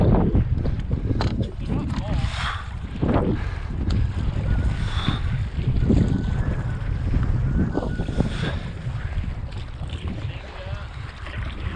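Steady wind buffeting the microphone while paddleboarding on the Deschutes River, a continuous rushing roar with gusty surges and faint water sounds, and a voice speaking over it at moments.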